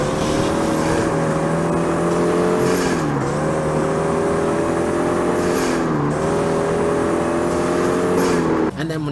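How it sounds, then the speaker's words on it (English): Loud fully modified racing car engines in the video game Street Racing Syndicate revving steadily, pitch climbing then dropping at gear shifts every few seconds, with a deep exhaust throb and no talking. "The revving of the engines, the shifting of the gears, the bass throbbing of the exhaust"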